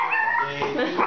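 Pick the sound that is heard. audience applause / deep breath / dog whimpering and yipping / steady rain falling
dog whimpering and yipping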